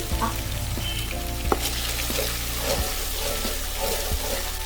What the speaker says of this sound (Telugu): మసాలా బాగా వేగినట్టేనండి